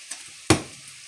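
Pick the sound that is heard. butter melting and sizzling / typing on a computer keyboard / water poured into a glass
butter melting and sizzling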